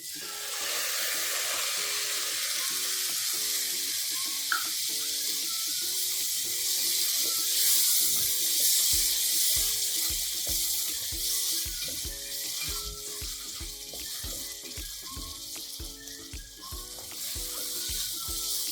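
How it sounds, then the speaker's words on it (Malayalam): Onion and tomato puree sizzles and fries steadily in a pan over medium flame while being stirred, a continuous close crackling hiss with rhythmic scraping of the spoon and no talk. "ഇതൊരു 2-3 മിനിറ്റ് നമുക്ക് ഇളക്കി കൊടുക്കാം."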